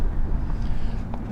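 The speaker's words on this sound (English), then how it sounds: "Sorry about the wind today." Wind buffeting an outdoor microphone, a loud low rumble with uneven gusty swells throughout the brief stretch, with no clear voice over it.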